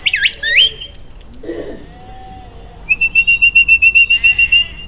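Shrill sheepdog herding whistle signals on a farm: sliding chirps at first, then a rapid run of evenly pulsed high whistle blasts, loud and close in an outdoor setting.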